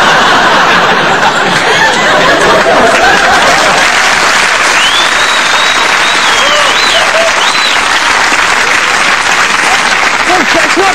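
A comedy club audience at a stand-up show claps loudly and continuously, mixed with scattered laughter and chuckles, a full wall of applause throughout.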